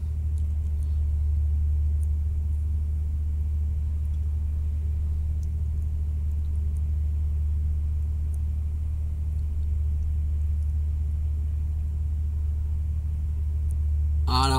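A car driving on the road for a long delivery run, giving a constant low engine and tyre rumble that holds steady throughout, with no talking.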